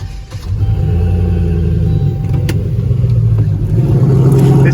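A turbocharged 6.0 LS V8 with a 4L80E transmission, fitted in a hoodless Caravan, heard from outside: a loud, steady mid-range engine drone that builds and swells as it revs, close by and with no talking.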